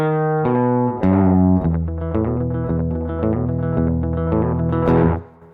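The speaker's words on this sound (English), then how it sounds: "people will set up a slapback to sound something like this." An electric guitar runs through a delay pedal set to a quick slapback, a single fast, loud repeat trailing each picked note and chord in a close, steady phrase with no talk.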